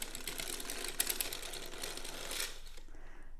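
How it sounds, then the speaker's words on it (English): A circular sock knitting machine is cranked through a row, giving a steady mechanical whirring clatter with rapid ticking that runs for close to three seconds and then stops, leaving quiet. "Just gonna crank that row."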